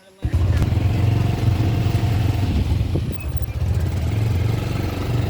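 A motorcycle engine starts and runs, a loud steady low rumble close by after a brief quiet moment, with slight surges in revving.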